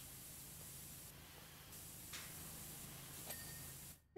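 Pressure washer spraying in PowerWash Simulator, a continuous broadband hiss sweeping back and forth, fairly quiet and steady with slight surges, cutting off at the end, no talk.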